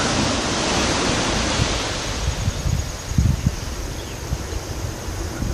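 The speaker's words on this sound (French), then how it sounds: "Voilà la plage de sable foncé" Waves wash onto a dark sand beach near Étang Saint-Paul and Le Port on Réunion, a steady loud surf roar with wind buffeting the microphone and a few heavier rumbling surges.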